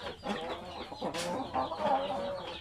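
Native Basilan chickens and roosters on a farm cluck and call in soft overlapping bursts, a close hen's chatter rising over a low, busy yard background with no speech.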